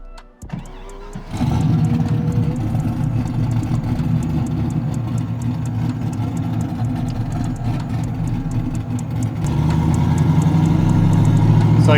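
Turbocharged LS1 V8 in a Mazda RX-7 cranks briefly and catches, then settles into a loud, lumpy idle close by that grows slightly louder toward the end.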